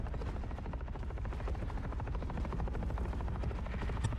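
A helicopter in the video game The Forever Winter drones steadily with a fast rhythmic rotor chop, loud and constant with no talking.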